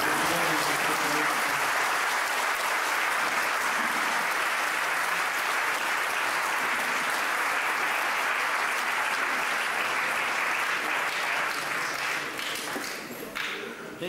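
Audience at a 2002 commemorative event for Saint Kosmas of Aetolia applauds steadily and loudly for the whole stretch, a dense even clatter of many hands that thins slightly near the end.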